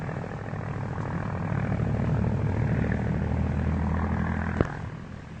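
Steady propeller-plane drone from inside the cabin, a constant low engine hum with a brief clunk near the end.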